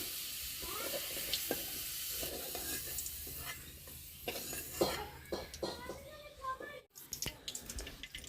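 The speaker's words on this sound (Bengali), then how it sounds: "ভালোভাবে আলুগুলো ভেজে নেব।" Potatoes fry in a pan with salt and turmeric, giving a steady sizzle broken by scraping and clinking as they are stirred, close up and moderately loud, with no talking.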